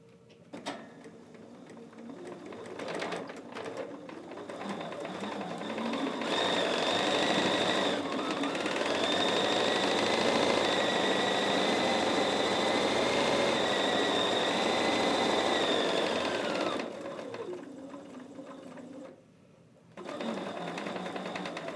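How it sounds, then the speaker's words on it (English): A sewing machine stitches fabric for a trick-or-treat tote, a fast steady whirring run that builds, holds for several seconds, then stops briefly before starting again, close by and with no talk over it. "So I'm going to go do this step with you on the sewing machine now."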